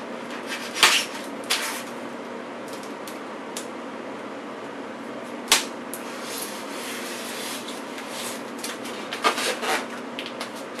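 Tape being sliced on a wrapped cardboard package, a few sharp cutting and tearing sounds at the start and again midway and near the end, close up over a steady room hum, no talk.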